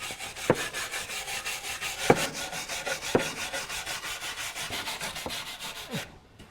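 Mud being scrubbed off the chassis rails of a 1986 Range Rover, rhythmic back-and-forth scraping strokes with a few sharper knocks, close and moderately loud, ending abruptly.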